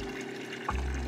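Water gushing from a budget diaphragm pump that has just primed, starting abruptly partway through as a loud, steady rush.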